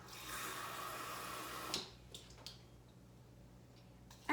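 Water pours steadily into a cup for under two seconds, then stops, leaving a few faint drips and small clinks in near silence.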